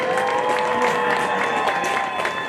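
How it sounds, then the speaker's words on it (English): Crowd at a college football game applauds and cheers for the LTU seniors, a broad, distant wash of clapping and voices carried over a steady tone in the stadium. "let's have one more big round of applause for all of our LTU seniors"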